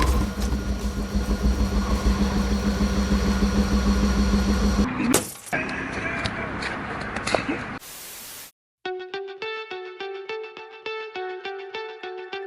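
Nuclear rocket engines firing in Kerbal Space Program, a loud continuous roaring rumble that cuts out abruptly partway through, followed by short bursts of static and a pulsing tonal hum.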